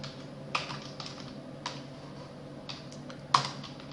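Keys clatter on a computer keyboard while a kickstart configuration file is typed, with sparse, irregular clicks and a few sharper louder strikes over a quiet room hum.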